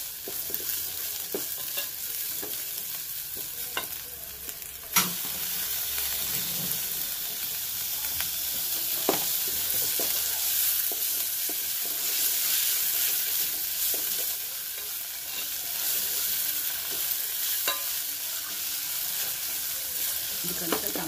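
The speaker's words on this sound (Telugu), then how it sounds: "టమాటా సన్నగా కోస్తున్నాం కాబట్టి చాలా ఈజీగా మగ్గుతుంది" Thinly sliced tomatoes fry over ginger and garlic in a pan with a constant bright sizzling hiss. Occasional clicks of a spoon stirring rise above it throughout.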